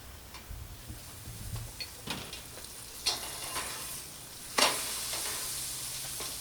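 Lacha paratha flatbread sizzling on a hot pan, a steady soft frying hiss with occasional scraping and tapping clicks, one sharper clatter near the end, close and fairly quiet.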